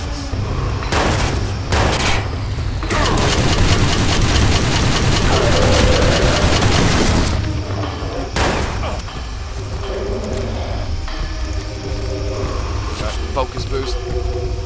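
Pistol gunfire during a prison fight in Watch Dogs, with a loud, sustained burst of shooting and clatter for the first half, followed by separate sharp shots over a low engine rumble.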